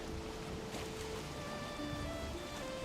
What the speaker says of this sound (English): Of course, there's going to be rain as we make our way.